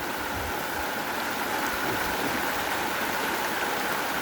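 Water flowing along a channel in a Thai rural setting, a steady broadband rush with no pauses, fairly close and constant, with no voices present.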